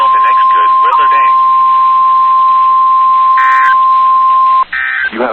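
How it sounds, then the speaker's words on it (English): A National Weather Service radio warning alarm test sounds as one loud, steady, piercing tone that holds for several seconds, briefly joined by higher beeps before it cuts off, and then a voice starts speaking. "You have just heard a test of the National Weather Service radio warning alarm feature broadcast"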